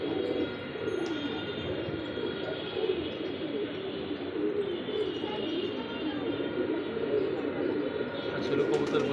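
Pigeons coo steadily through the whole stretch in a backyard loft holding this year's young birds, with soft chirps mixed into a constant low murmur and no clear pauses.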